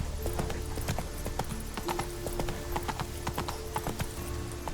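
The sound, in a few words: hooves of Geralt's horse Roach in video game The Witcher 3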